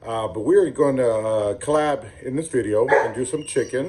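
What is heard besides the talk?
dog barking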